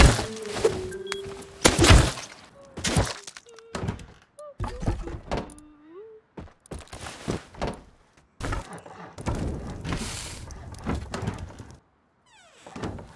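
A player's base being torn down in the survival game Rust, with repeated heavy thunks and wooden knocks in irregular bursts, close by, loud and then falling quiet between hits, with no voices.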